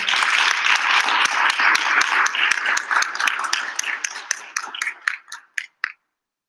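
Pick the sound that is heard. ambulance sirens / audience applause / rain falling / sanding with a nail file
audience applause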